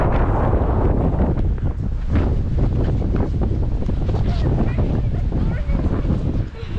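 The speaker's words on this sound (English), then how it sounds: "it's cold and it's windy in Korea." Strong, cold wind buffets the microphone in a loud, continuous roar at Camp Humphreys, Korea, with brief gusts and faint background sounds mixed in.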